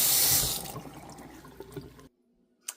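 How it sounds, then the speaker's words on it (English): Soaked beans are drained and rinsed under a running kitchen tap. A strong gush of water fades into softer splashing and trickling, then stops, followed by one faint drip-like tap. "I'm draining them and just rinsing them off"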